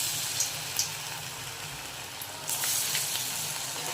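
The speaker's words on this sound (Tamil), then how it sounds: "எல்லா வடையும் பொரிச்சு எடுத்துடலாம்." Sorakkai (bottle gourd) vadai fry in hot oil with a steady, close sizzle and crackle, plus a few sharp spits and a brief louder burst of bubbling partway through.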